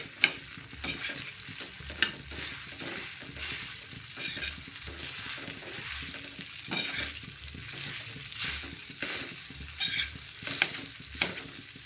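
Leftover cooked rice fries on a hot griddle with steady sizzling and repeated scraping and stirring strokes, continuous and fairly close, no voices.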